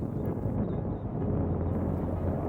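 A violent wind gust batters a beach where piping plovers feed, a dense low roar buffeting the microphone throughout, loud and steady with a brief dip, no voices.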